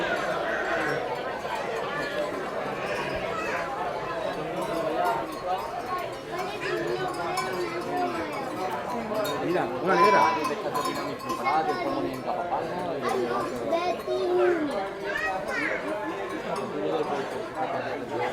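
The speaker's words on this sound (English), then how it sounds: "There's a Suffolk sheep." Suffolk sheep bleat amid a busy outdoor agricultural fair in Calvia, Mallorca, their calls mixed into a constant crowd chatter with occasional clinks, moderately loud and steady throughout.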